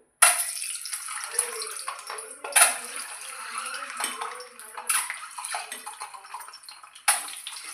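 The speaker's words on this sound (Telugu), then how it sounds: "ఇప్పుడు అందులో ఎగ్స్ ఫ్రై చేసుకోవాలి" Eggs frying in heated oil, a steady sizzle interrupted by sharp clinks of a utensil against the pan, with intermittent scraping and spitting over several seconds.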